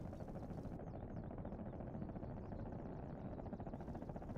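Droning engine of a P-51 fighter plane in the War Thunder flight game, a continuous loud roar with a fast pulsing flutter, heard alone throughout.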